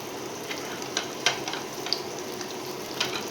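Chopped garlic and onion frying in a little oil for dry chilli chicken, giving a steady close sizzle with a few sharp spoon taps and stirring scrapes on top, no talking.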